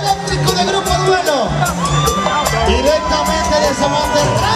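A large crowd at a live concert in a casino cheers, whoops and shouts continuously, with dense noisy clapping and voices blending into a loud, sustained roar.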